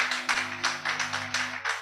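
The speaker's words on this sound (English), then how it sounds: "A round of applause for USEC." Applause at a poultry industry show in Nigeria, a short burst of hand claps at moderate distance, with a steady low hum running underneath throughout.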